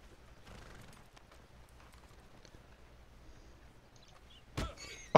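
Hoofbeats from a horse named Maple in Red Dead Redemption Online, faint and steady, followed by a couple of sharp, louder thumps near the end.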